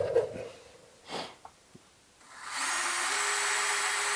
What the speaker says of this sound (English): you can hear the drill load up